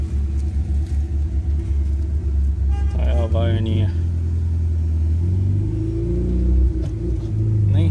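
A Volkswagen Gol that had a battery problem turns over and its engine rumbles steadily up close, rising partway through, while people talk over it throughout.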